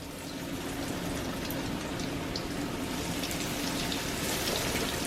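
Breaded chicken and eggplant pieces fry in hot oil in a pan, giving a steady dense sizzle and crackle throughout with no talk.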